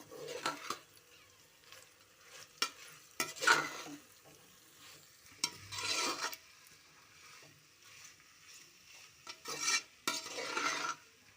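Aloo saagu, a potato curry made to go with poori, is stirred in a pan with a spoon, giving intermittent scraping and rattling bursts with soft sizzling between strokes. No one speaks.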